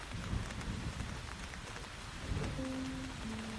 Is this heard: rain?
yes